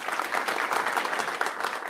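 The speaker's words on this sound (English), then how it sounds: "You missed your round of applause, so here you go." A round of applause on a comedy talk show, dense steady clapping from a studio audience at moderate loudness, brief and without speech.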